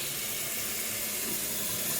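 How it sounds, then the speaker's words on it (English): Water runs steadily from a newly fitted kitchen mixer tap into a sink, a continuous close hiss and splash with no pauses. "we count the spout of water coming out"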